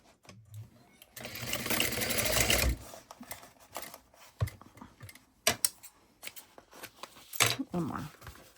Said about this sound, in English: sew together at a 1/4 inch seam allowance. Make sure you back stitch or else these will come undone later.